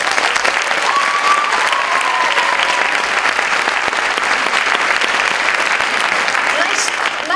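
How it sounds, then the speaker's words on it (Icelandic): A festival audience claps steadily for the whole stretch, a dense, even wash of applause from a sizeable crowd at a youth dance festival, with no pauses or voices standing out. "ég held að við ættum að gefa því bara gott klapp"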